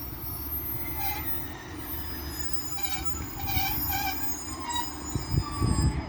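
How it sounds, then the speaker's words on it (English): A pair of Class 150 diesel trains running from Clitheroe to Rochdale roll past with a steady rumble, while repeated high-pitched wheel squeals ring out over the passing carriages and heavier clanks build near the end. "pairing of 150s running from Clitheroe to Rochdale, with 150 109 bringing up the front"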